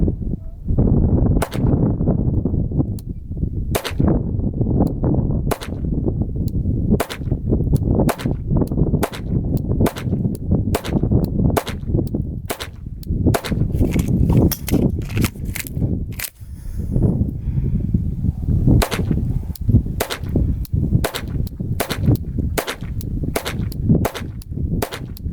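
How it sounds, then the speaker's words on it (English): Glock 44 .22 pistol with aftermarket sights fired at an outdoor range: a long string of sharp, loud, close single shots at an uneven, fairly quick pace, with short pauses between some of them and no talk. "we'll let you see what the accuracy potential is of the Glock 44 with excess sights"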